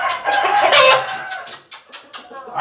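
A fighting rooster clucks steadily up close, then lets out several short, sharp bursts of crowing and calls in a quick uneven rhythm.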